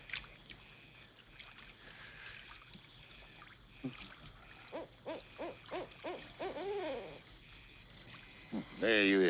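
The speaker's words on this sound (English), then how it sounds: "That old owl sound like a witch on fire." An owl hoots repeatedly in a wavering, rising-and-falling call over a steady rain-like hiss, with a louder, warbling hoot bursting out at the end.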